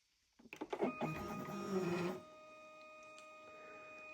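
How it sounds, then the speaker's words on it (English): A small cartridge pushed into a DNA analysis machine sets off a quick run of mechanical clicks, then a whir of about a second that stops abruptly. A faint steady hum remains afterward. "So that's the cartridge now loaded into the machine, ready to start analysing."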